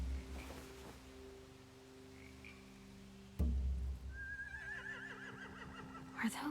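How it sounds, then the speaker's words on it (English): Horses neighing in Telltale's The Walking Dead: The Final Season video game, a whinny rising out of a quiet game ambience with a low hum and a sudden thump midway. "They have horses."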